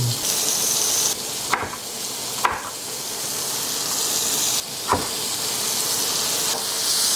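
Sweet peppers sizzle in butter in a pan, a steady frying hiss running throughout with a few soft stirring scrapes and taps.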